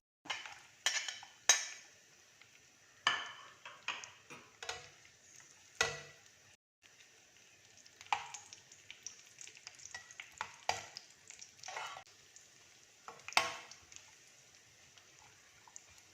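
Cashews and raisins frying in a pan for rava ladoo (semolina sweet), with a quiet sizzle under repeated scraping and clinking of a spoon against the pan, alone without voices.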